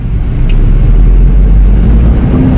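A 2002 Toyota Kijang LGX with a 2.0 EFI engine pulls away in first gear, its engine a loud steady low rumble heard from inside the car, with no talk.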